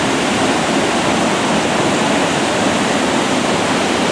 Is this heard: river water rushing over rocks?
yes